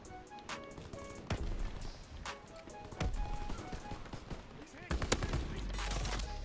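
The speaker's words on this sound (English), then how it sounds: "Fighter pilot inbound. Strafing the target." Fighter-plane strafing fire in a World War II shooter game, bursts of rapid gunfire and sharp impacts that build toward a loud heavy barrage near the end, with game sounds around it.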